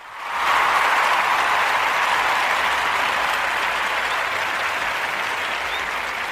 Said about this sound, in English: Let's get a round of applause for the thoughts.